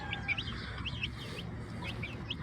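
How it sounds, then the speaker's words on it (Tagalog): Several young chicks about a week old give short, high chirping peeps in repeated bursts, fairly close, over a steady low background hum with no talking. "Tatapang na ng mga sisiw na to."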